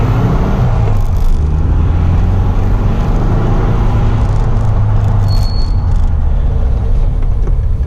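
A home-built VW Beetle rolls along on a test drive with freshly serviced brakes, its engine and road noise forming a loud, continuous interior rumble with no talking.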